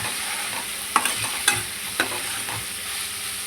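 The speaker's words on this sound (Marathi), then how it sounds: "ह्याच्यामध्ये बघा शिमला मिरची कांदा टोमॅटो टाकले आता हे चांगला परतून घ्यायचं आहे" Capsicum, onion and tomato stir-fried in a pan, with a steady close sizzle and a few sharp scrapes and clinks of a spatula against the pan.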